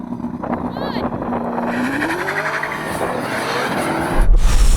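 Tesla Model S Plaid and Ferrari SF90 launching hard off the line in a drag race, a loud, sustained roar of engine and tire noise with a rising whine, over excited voices, swelling louder near the end.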